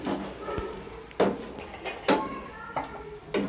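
A metal spoon stirs potatoes and water in a pot, giving several sharp clanks and scrapes against the pot, spaced irregularly at close range.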